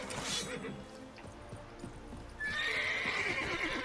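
Horse in The Witcher 3: Wild Hunt, hooves clip-clopping steadily before a loud, close whinny rises at the end; no speech.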